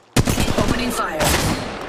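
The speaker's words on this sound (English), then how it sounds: "Opening fire." Rapid bursts of gunfire from the game Apex Legends, played as Fade, start abruptly and rattle on loudly in a dense, continuous volley over the full two seconds.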